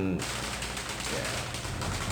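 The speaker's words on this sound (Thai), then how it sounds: "จุดประทัดกัน" Firecrackers set off at a Thai temple honoring Thao Wessuwan, Wat Ketumadee Sriwararam in Samut Sakhon, heard as a continuous dense crackling barrage of rapid pops, loud and close, filling the whole moment without a break.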